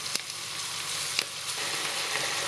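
Floured pork belly fries in oil with a steady, dense sizzle and a few sharp pops and crackles, close and moderately loud, with no voices.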